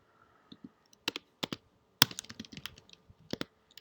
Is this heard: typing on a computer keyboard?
yes